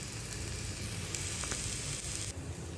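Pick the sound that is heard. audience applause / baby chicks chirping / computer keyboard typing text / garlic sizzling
garlic sizzling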